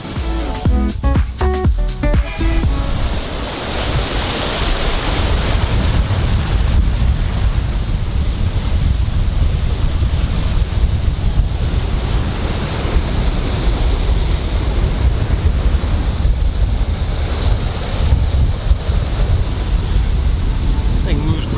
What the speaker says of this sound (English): The wind picked up to about 17, 18 knots